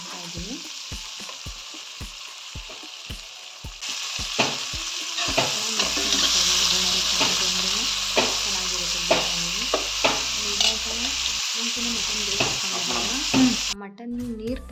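Chopped tomatoes and green chilies frying in a hot tempering for mutton biryani, a steady loud sizzle with repeated stirring scrapes and clinks throughout, no talking.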